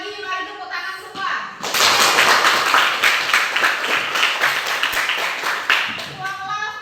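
A class of students bursts into loud, dense hand clapping for several seconds in a classroom, bracketed by voices talking in Indonesian before and after.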